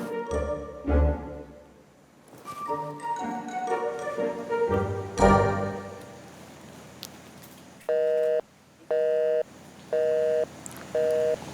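Unanswered outgoing phone call: a repeating ringback tone in four evenly spaced bursts, loud and clear, following a stretch of indoor household sounds and movement.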